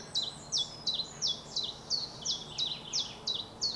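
A bird sings a fast, repeated series of high, descending chirps, about three per second, loud and close with no other sounds.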